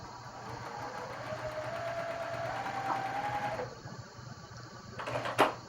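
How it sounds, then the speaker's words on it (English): Sewing machine stitching an inset Y-seam on a quilt block, a close, steady whirring run that stops abruptly partway, followed by brief clicks and handling noise. "we're going to lock those stitches in place and stitch off the end."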